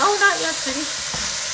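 Onions sauté in a pan with a steady, fairly loud hiss, while someone speaks briefly over the sizzle at the start.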